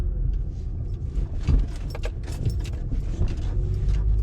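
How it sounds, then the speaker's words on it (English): Road rumble inside a moving 2004–2008 Acura TL with a suspected faulty motor mount, with bursts of loose rattling and clattering over bumps, irregular and close. "Yep, I hear rattling right now."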